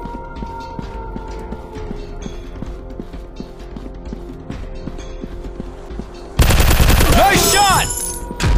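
Wild West shooting in a mobile FPS game: steady clip-clopping hooves and ambient game noise give way to a sudden loud burst of rapid, sustained gunfire near the end.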